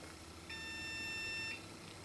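A Compaq Presario SR5123WM desktop with a memory error gives one steady electronic beep lasting about a second, clear against a quiet room hum.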